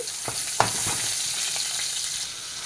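Bright, steady sizzle of shallots and whole spices frying in coconut oil, close up, with a couple of light utensil taps and no talking.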